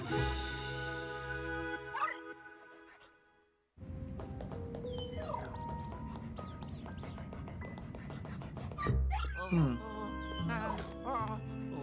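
Dog barks and yips in a game setting, several sharp calls scattered over a busy musical and ambient background, with a brief near-silent gap partway through.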